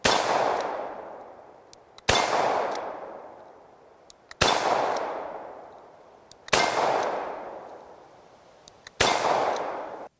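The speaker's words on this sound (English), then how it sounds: "the clang of the metal on metal" Rounds strike a Grizzly AR500 steel IPSC reactive target, five loud metallic clangs spaced about two seconds apart, each ringing out and decaying slowly with no talking.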